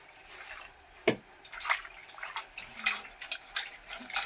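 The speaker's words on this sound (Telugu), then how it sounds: "ఇక కడుగుదాం చేపలు" Bommidi fish being rinsed by hand in water, with uneven splashes and sloshing bursts, a sharper splash near the start, moderately close and without talk.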